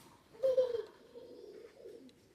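Pakistani high-flying pigeons coo softly at close range: one clear, fuller coo rises, then lower, quieter cooing trails off in a calm, nearly silent setting.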